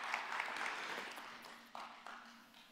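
A church congregation gives a brief round of scattered clapping at a worship service, fairly faint and thinning out within a couple of seconds, with a few louder single claps near the end.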